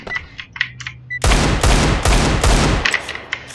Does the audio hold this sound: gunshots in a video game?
yes